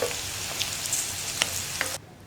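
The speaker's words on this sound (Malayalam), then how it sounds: "വെണ്ടയ്ക്ക കുക്കായി തുടങ്ങി. ഇത്രയും മതി." Okra frying in hot oil gives a steady broadband sizzle with a few light clicks and scrapes, close and moderate in level, then drops away sharply near the end; no one speaks.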